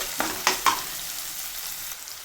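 Grated onion for restaurant-style crispy corn sizzles steadily in a hot pan over high heat, with a few sharp scrapes of a spoon stirring near the start.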